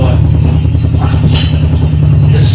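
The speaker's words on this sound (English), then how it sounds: "They rev it so hard that it sounds like the engine's going to explode." Engine revved hard, played back through a speaker in a meeting room: a loud, continuous low rumble with a pulsing throb, steady throughout and with no talk over it.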